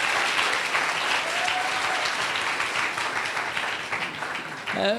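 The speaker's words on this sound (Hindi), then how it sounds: "So let's clap for yourselves." A crowd applauds loudly and steadily throughout, with a brief voice just at the end.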